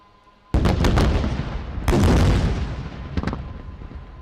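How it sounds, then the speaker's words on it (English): Incendiary strikes by armed swarm drones hit fuel and oil dumps during an Indian Army Day parade demonstration: three heavy, loud blasts with long rumbling decay, the second the biggest and the last a sharper double crack. "Please watch area FOL dumps at Tango 4, Tango 5 on the left and Tango 8 and Tango 9 on the right for incendiary strikes."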